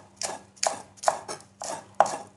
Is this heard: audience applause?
no